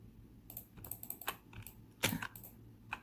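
Several sharp computer keyboard key presses, including a delete key, made while editing a halter-neck dress photo in Photoshop, tapped in an irregular rhythm close by with one louder strike near the end and no talking.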